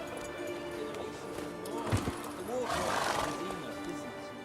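Geralt's horse Roach in The Witcher 3: Wild Hunt gives a short neigh and snort as he reins her in, with hooves shuffling and ambient game sound beneath a voice.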